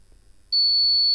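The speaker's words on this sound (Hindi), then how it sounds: "ये ओवरलोड पे पूरा बंद हो गया है और बजर बजने लगा।" A 300 watt inverter board's overload buzzer starts midway and holds a loud, steady high-pitched tone to the end, after a quiet start with faint low rumble.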